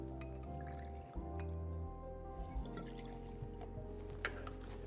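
Two ounces of Maestro Dobel Diamante tequila poured for a grapefruit and rosemary cocktail, a soft close liquid trickle and splash that comes in short bursts with small drips between them.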